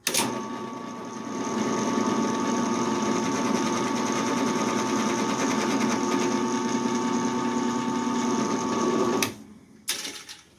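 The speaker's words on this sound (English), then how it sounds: "So now we're ready to do the drilling." A power drill whines steadily at high speed for about nine seconds drilling into a small, thin hardwood piece, then cuts off abruptly, followed by a brief clatter.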